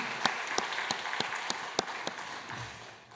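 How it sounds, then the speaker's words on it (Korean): Church congregation in a Korean Sunday service clapping to welcome a family, a short, quiet round of applause with a few sharper distinct claps standing out, fading away after about three seconds. "박수로 환영하겠습니다"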